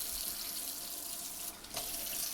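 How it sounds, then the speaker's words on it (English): Tap water runs steadily into a sink as hands are washed before bread making, a continuous close splashing hiss with a brief dip in the flow near the end. "First thing we want to do, we do this, is we want to wash our hands."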